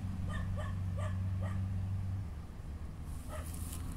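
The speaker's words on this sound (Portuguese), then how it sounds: "E um cachorro latindo e" A dog barks about five times in a quick, regular series at a moderate distance over a low engine hum, then one more bark follows.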